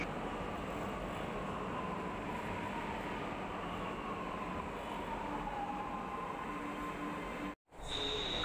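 A Lucknow Metro train hums and rumbles steadily at close range at the platform, with a faint squeal of wheels, before a sudden brief cut near the end.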